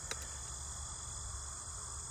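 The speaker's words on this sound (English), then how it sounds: "Oh, the crickets." Crickets chirp steadily in a summer field beside a barn, a continuous high trill heard clearly and alone throughout.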